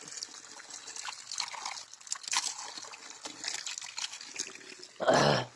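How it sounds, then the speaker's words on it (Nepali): Water running from an outdoor water spout, a faint steady trickle and splash under outdoor ambience, ending with a louder, close splashing burst. "पानी धारा पनि कस्तो राम्रै छ होइन"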